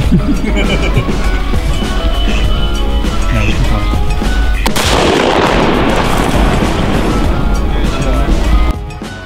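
A single sharp gunshot rings out during a duck and quail hunt in South Georgia, standing out from steady, loud outdoor rumble and noise, with people talking around it.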